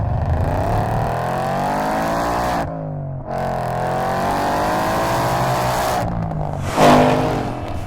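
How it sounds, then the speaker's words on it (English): A supercharged Coyote V8 in a 2020 Shelby Super Snake revs hard with a deep, rumbling exhaust, the pitch rising and falling through several loud revs, with a brief drop near the middle. "We love that Coyote engine, it always sounds amazing, and with this baller exhaust"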